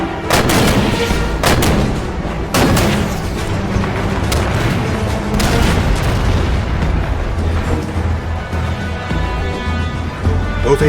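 Tank and artillery fire in Halo 5 pounds out in heavy booming blasts, several sharp loud shots standing out over a constant rumble of battle, with no voices.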